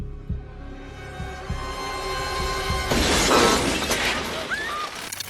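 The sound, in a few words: expensive electronics being smashed on the floor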